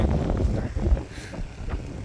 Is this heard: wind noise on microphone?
yes